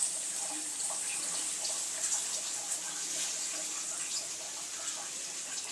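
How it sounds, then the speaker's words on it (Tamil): Oil is poured into a pot while hair oil is being made, giving a continuous close, hissing stream of liquid that stays even throughout, with no talking. "இப்போ எண்ணெய் ஊற்றிக்கலாம்"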